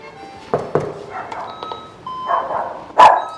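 A pet dog barks at a doorbell inside a house, several sharp barks and yips spread irregularly, with one loud final bark, fairly near and without talk.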